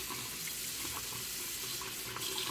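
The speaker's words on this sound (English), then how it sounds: "So this time I'm actually going to get a paper towel to turn on my water." A tap runs steadily into a sink during hand washing, a continuous hissing splash that stays even and moderately quiet throughout.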